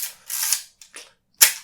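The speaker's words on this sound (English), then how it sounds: "shutter could be quieter, but I don't think it'll kill me." The shutter of a Fujica GS645 medium format film camera fires in a few sharp mechanical clicks and snaps, close and crisp, with brief silences between them and a final louder snap.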